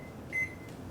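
A single short electronic beep from a kitchen timer being set, clear but brief against a quiet hum of room noise.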